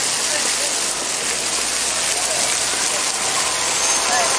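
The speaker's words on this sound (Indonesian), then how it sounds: "Ini mau lihat air terjun." Water from a waterfall visited on a 2013 European tour roars as a steady, dense broadband rush, loud and continuous throughout with no clear voices over it.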